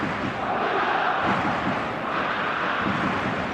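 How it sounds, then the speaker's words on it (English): Stadium crowd noise in the eFootball 25 video game on a clear evening, a loud, continuous roar of massed fans with rolling swells and no talk over it. "This place is living up to its reputation as one of the noisiest corners of the footballing world"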